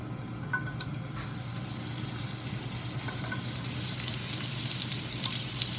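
Acorn squash browning in a hot pan, a steady loud sizzle and crackle of frying that builds slightly, with occasional light stirring clicks.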